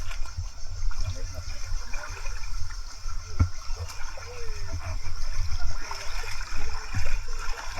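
Water trickling and rushing along a shallow jungle stream at night, a steady close wash of flow with occasional small splashes beside wet rocks and fallen branches.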